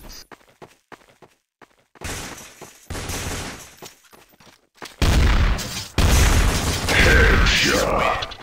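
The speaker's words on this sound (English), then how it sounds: "I'm getting shot through the walls now." Gunfire from Counter-Strike: Source on a shotgun map, loud bursts of shots and booms crowding the second half after sparse quieter clicks and shots early on.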